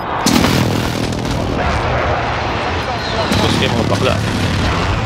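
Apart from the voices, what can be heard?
precision airstrike from the video game Call of Duty: Warzone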